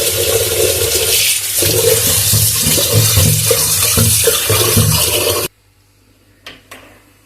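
Rice is washed in water before cooking, producing a loud, close, continuous rushing and sloshing that stops abruptly, followed by a couple of faint knocks in near silence.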